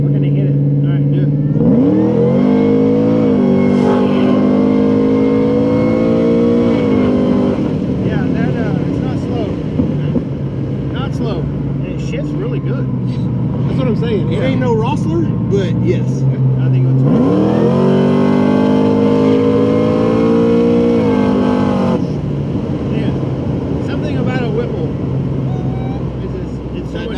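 3600hp Murder Nova no-prep race car, a 482ci engine with twin 98mm turbos on 70psi, revving hard in two loud rising pulls over a rumbling idle, close and dominant with voices talking underneath.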